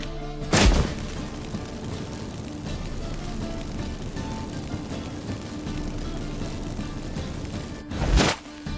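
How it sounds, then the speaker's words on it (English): Magic incense fireworks set off in The Witcher 3: two sharp, loud booming bursts, one near the start and one near the end, with a steady rumbling game ambience between them. "Get ready for some magic fireworks."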